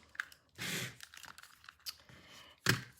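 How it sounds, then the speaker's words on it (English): Scissors snip through palette paper at an art journaling table, with a longer crinkly cut near the start and a sharp, brief snip near the end, close and fairly quiet. "My scissors might be a little wonky"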